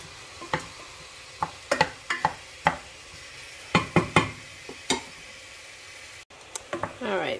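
Hot Italian sausage, squeezed out of its casing, browns in a pan with a soft sizzle under scattered spatula clacks and scrapes, close and moderately loud.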